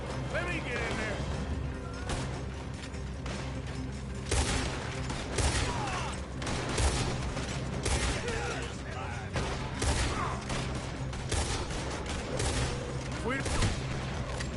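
A robbery shootout in Red Dead Redemption 2 brings dense, continuous gunfire with sharp cracks and crashing impacts throughout, while someone talks over the din.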